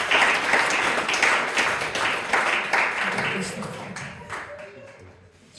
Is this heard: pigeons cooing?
no